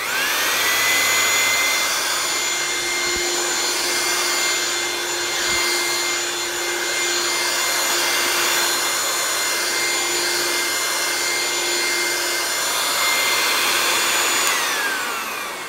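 An old corded vacuum cleaner from the late 1970s runs with a loud, steady whine and a rushing airflow that holds nearly constant throughout and tails off at the very end.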